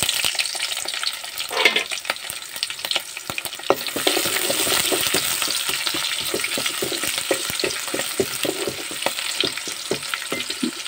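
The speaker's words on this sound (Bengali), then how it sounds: "আমি পেঁয়াজ আর মরিচ ভালোভাবে ভেজে নিব।" Onions and chilies frying in a pan with whole cumin, a continuous close sizzle broken by frequent scraping stirs and clicks of the spatula, steady throughout with no voices.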